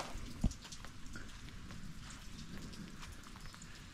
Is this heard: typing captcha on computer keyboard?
no